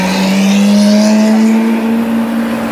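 A Ford Mustang GT500 drives past on a Tokyo street, a steady loud engine drone holding one low pitch for about three seconds amid busy traffic noise, with no voices.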